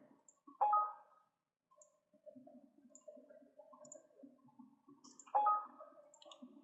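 A computer mouse clicks while saving files in CATIA design software: two sharp, close clicks a few seconds apart over a faint, quiet background.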